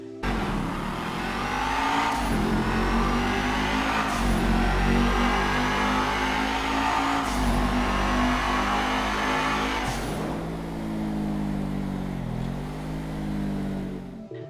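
A sports car engine in the video game GTA V Online revs loudly and aggressively in a sustained roar, rising and dipping with throttle changes through several short shifts, heard alone without talk.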